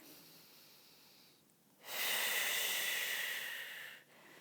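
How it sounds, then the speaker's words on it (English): A single big, deep inhale during a second-trimester prenatal birth-prep workout, heard as a long, loud, airy breath close to the mic that swells and holds for about two seconds after a quiet pause. "So big inhale in."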